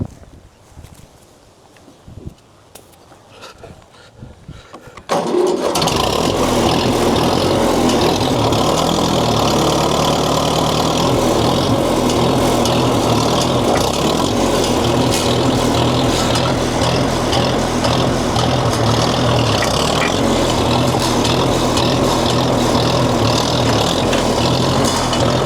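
Ferguson tractor engine labouring against a tree stump, a steady loud low drone that starts abruptly after a quieter stretch of rattles and then runs continuously and close without a break.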